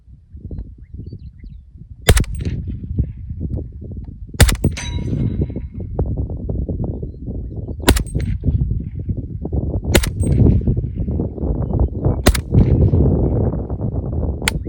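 A Steyr AUG in .300 Blackout fires single shots that ring off a steel target, five sharp metallic clangs spaced a couple of seconds apart over low rumbling outdoor noise.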